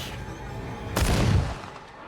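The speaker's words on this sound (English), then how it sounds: "Before he could act, a gunshot suddenly rang out." A single gunshot in a dark horror thriller film, a sudden loud boom with a rumbling low tail that rolls on for about half a second over a steady dark ambient bed.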